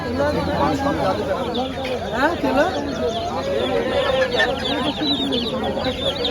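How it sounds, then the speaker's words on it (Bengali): Sonali and broiler chicks at a village livestock market in Rajshahi keep up a dense, busy chirping with cluck-like calls throughout, close and steady, under nearby talk and market bustle. "এগুলা কি মুরগির বাচ্চা ভাই এগুলা কি মুরগির সোনালি আর ব্রয়লার"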